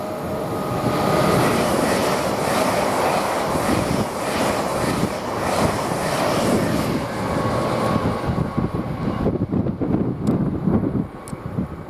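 LNER train at Grantham railway station, a steady broad rumble of rolling stock passing close for the whole stretch, with gusty wind buffeting the microphone.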